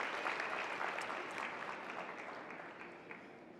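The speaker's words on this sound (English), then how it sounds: "big round of applause for all of our speakers this morning" Conference attendees applaud their morning speakers, a sustained wash of many hands clapping at moderate distance that slowly tapers off.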